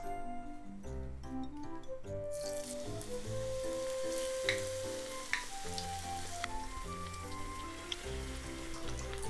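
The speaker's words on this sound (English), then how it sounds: "Next I'm gonna fry the eggplants." Eggplant tempura fries in hot oil, a steady, even sizzle and crackle running under background music, with occasional brighter pops.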